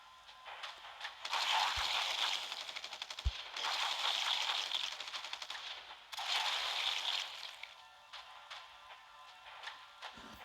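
Automatic gunfire in The Walking Dead: No Man's Land video game, three long rattling bursts of rapid shots separated by short pauses, with a couple of heavier single thumps and quiet gaps.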